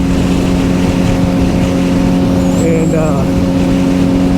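A Suzuki GSX-R 750/600 motorcycle cruising on a highway after a transmission replacement and motor install, its engine drone loud and steady under heavy wind rush, with a brief voice in the background.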